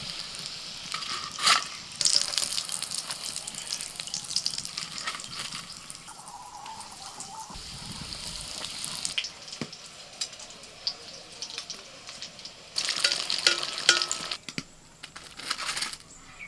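Kolkata-style egg devils (egg chops) fry in oil over medium heat, a soft continuous sizzle broken by louder bursts and occasional stirring clatter.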